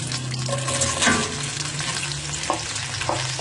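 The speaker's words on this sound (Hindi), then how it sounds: "1-2 चम्मच चलाने के बाद इसमें साथ ही हम चिकन ऐड कर देंगे" Chicken with soy sauce stir-frying in a hot pan for chicken fried rice, a loud, dense sizzle with spoon scrapes and clatters against the pan, no talking.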